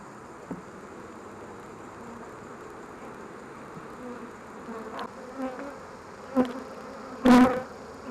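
Honey bees hum around an open hive being worked, a faint steady drone with a few louder buzzes passing close near the end.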